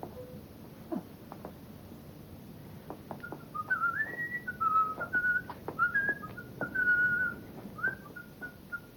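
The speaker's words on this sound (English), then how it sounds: "Whistle." A whistle sounds in a string of short, wavering tooting notes that rise and fall like a little tune, with light tapping noises around it, in a 1990 children's television pilot.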